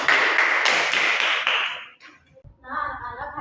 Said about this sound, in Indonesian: Kita berikan aplaus kepada anak IC yang sudah memberikan jawaban.